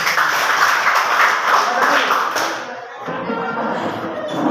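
A classroom group claps together in a dense, continuous patter of many hands, fairly loud and close, tapering off near the end.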